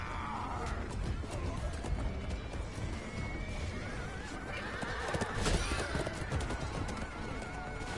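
Horses whinny amid a chaotic multiplayer game battle, with crashes, hoof clatter and weapon hits packed into a dense, continuous din while players shout over it.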